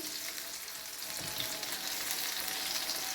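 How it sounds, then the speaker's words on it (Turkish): Breaded cheese for a honeyed cheese breakfast dish frying in a pan of oil, a steady close crackling sizzle throughout with no talk. "Peynirler, arka yüzleri kızarınca şöyle çevirelim."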